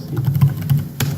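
Rapid close keystrokes on a computer keyboard, a short burst of soft clicky taps with a quiet room hum underneath.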